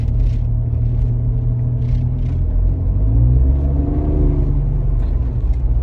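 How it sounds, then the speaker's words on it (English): A 2024 Ford Ranger pickup's engine and exhaust rumble low and steady from inside the moving truck, the pitch shifting as it accelerates, with no talking. "I hear the motor. I hear my exhaust, right?"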